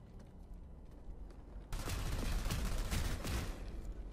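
Shotgun fire bursts out in the Planetside 2 video game after a quieter low rumble, a loud dense volley of blasts that carries on for a couple of seconds with no voices.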